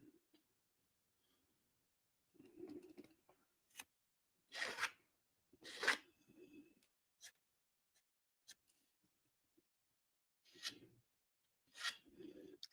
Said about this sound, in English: It's a little easier to sand this stuff than the resin.